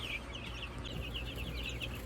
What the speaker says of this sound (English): These are Cornish cross chickens